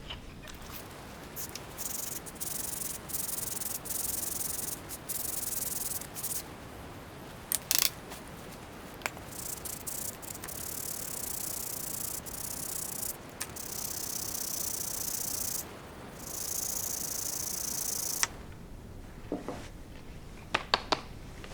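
Someone flattens the sole of a Stanley No 36 hand plane, making repeated rasping, scraping strokes that run almost continuously with short pauses and a few sharp ticks, close by and with no talk.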